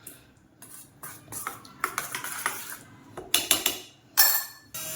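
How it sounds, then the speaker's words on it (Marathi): Sour curd mixed with sugar by hand, a utensil repeatedly clinking and scraping against the bowl in uneven bursts, with louder knocks near the end. "आंबट दही आहे त्याच्यानुसार साखर घालायची. चांगलं मिक्स करून घ्यायचंय"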